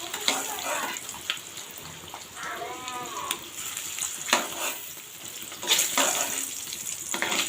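Eggs fried until red-brown being lifted out of hot frying oil, with a soft continuous sizzle and occasional utensil scrapes and clinks against the pan.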